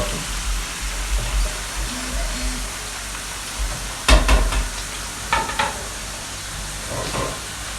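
Small Turkish meatballs (misket köfte) frying in a pan give a steady crackling sizzle, broken by louder scraping and stirring clatters near the middle and toward the end.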